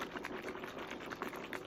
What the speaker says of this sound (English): And you shake it up till it dissolves.